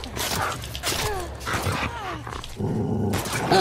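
A hostile dog in The Last of Us Part II growls and snarls close by in repeated harsh bursts, with brief yelping barks and a pained groan mixed in.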